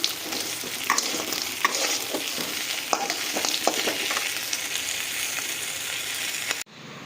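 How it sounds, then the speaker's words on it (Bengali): Steady crackling sizzle of crab claws frying in hot oil, with occasional scrapes and stirring clicks, ending abruptly. "ক্যাংড়ার দাঁড়াগুলো খুব ভালোভাবে একদম লাল লাল হয়ে ভাজা হয়ে গেছে"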